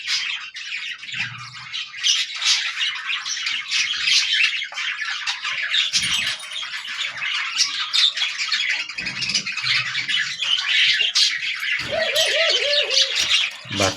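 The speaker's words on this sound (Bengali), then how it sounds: "দুইটা বাচ্চা ঘুঘু পাখির" Three-day-old dove chicks kept on a home balcony squawk and chirp in a dense, continuous high-pitched chatter, with a brief low cooing tone near the end and no speech.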